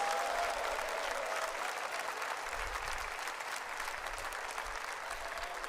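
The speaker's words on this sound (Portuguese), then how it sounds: "Só quem está feliz dá uma salva de palmas para o Rei Jesus" Continuous applause from a church congregation at an evangelical men's event, a dense, even wash of clapping held at steady volume throughout, with no speech over it.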